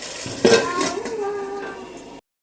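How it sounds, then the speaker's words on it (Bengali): Spiced food is stir-fried in a pan with a splash of water, giving a soft sizzle and a sharp scrape of a utensil against the pan near the start, then a fading hiss before silence. "আবার একটু ভালো করে কষিয়ে নেব, নয়তো একটু মশলার গন্ধ বেরোয়"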